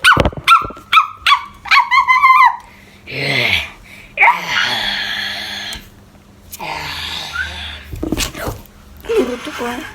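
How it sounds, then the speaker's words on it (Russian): A dog barks in several sharp, close bursts over the first few seconds, mixed with loud, agitated speech from people arguing nearby. "Я на тебя собаку натравлю."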